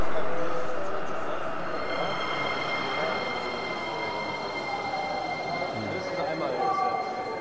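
A Sofia metro train rumbles steadily with broadband rail noise and faint wheel squeal, loud and close, with a rising screech near the end.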